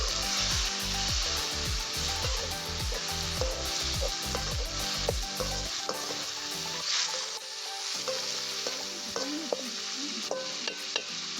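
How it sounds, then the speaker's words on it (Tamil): Tomatoes sauté in hot oil with dried red chillies for a sour sundakkai vathal kuzhambu, a loud continuous sizzle under rapid wooden scraping strokes that stop partway, leaving the frying hiss with a few scattered clicks. "தக்காளி நல்லா வதங்கிட்டோம்."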